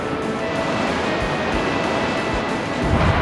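Crashing surf from the Pokémon Surf move during a Pokémon Stadium 2 tournament battle, a steady rushing wave wash that swells slightly louder near the end, with no voices.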